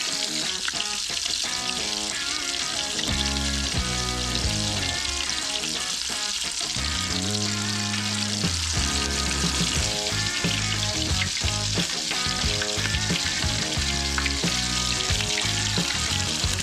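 White bass and bluegill fillets frying, giving a steady, even sizzle and crackle that runs the whole time beneath tuneful background music.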